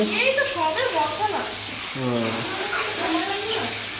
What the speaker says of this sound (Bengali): এই দেখো মাংসটা এখানে কষানো চলছে